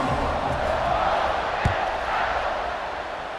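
Stadium crowd in a college football video game roars steadily as the kickoff is set up, a dense, loud, continuous wall of cheering with one brief thump partway through.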